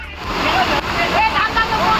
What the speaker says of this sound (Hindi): भरपूर पानी का बहाव इतना तेज था कि जो कोई भी इस झरने को पार करता वो बहता चला जाता